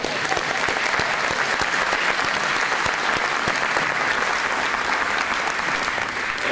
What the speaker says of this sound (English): Let's give Terry a round of applause